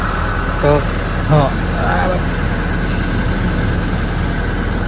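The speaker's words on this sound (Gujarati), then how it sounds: "સેલ મારી પહેલાં તો થોડી વાર ગરમ થવા દઈએ પછી નીકળીએ." A Toyota Innova idles steadily while warming up early in the morning, a constant low engine drone filling the background, with a few brief voice-like sounds over it.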